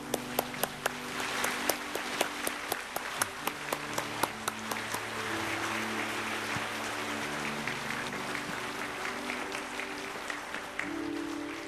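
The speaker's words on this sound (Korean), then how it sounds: "우리 뜨거운 박수로 맞이주시면 감사하겠습니다" A church congregation applauds to welcome a guest to the stage at an Easter Sunday event, a sustained, fairly distant wash of clapping with scattered sharper claps. A low murmur of voices runs underneath.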